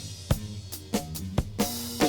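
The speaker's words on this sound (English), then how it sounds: "The drums are divided into snare, kick and cymbals, so they sound like this." Isolated drum tracks from a 1971 album track: snare, kick and cymbals heard as a few sharp hits and crashes, with a faint low bass tone leaking underneath.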